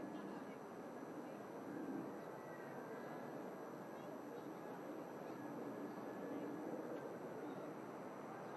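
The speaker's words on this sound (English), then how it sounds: "Beluga's taking off now as well." An Airbus Beluga takes off at Manchester Airport: a steady, broad jet roar runs through the whole stretch and holds at a fairly even level, with voices talking over it.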